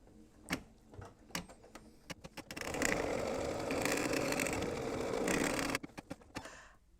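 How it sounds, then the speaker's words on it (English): A sewing machine stitches a color stop on a fabric mug rug, running in a steady whirring burst for a few seconds between clicks and handling sounds. "So then I'm going to stitch the next color stop,"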